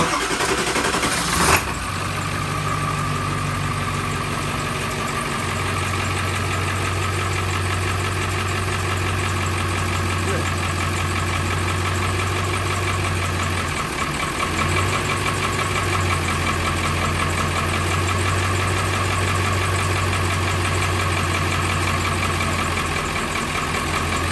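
A Ford Bronco's 7.3 diesel engine cranks and catches with a sharp burst, then settles into a steady, loud, close idle with a rough, clattering rhythm that runs on alone.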